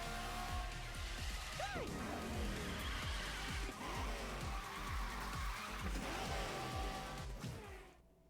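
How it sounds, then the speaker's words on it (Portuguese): Cars drifting and skidding in the Disney Speedstorm racing game, with steady engine roar and repeated rising and falling tire squeals through a continuous slide, loud and close until a quick fade at the end. "vamos fazer um impulso de derrapagem e encaixar outro em seguida"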